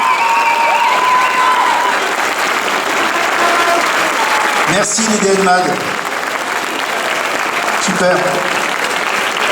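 Loud, dense applause from a crowd at a protest action by a collective of intermittent and precarious workers in Besançon, with a voice speaking over the clapping and a few sharper bursts rising partway through.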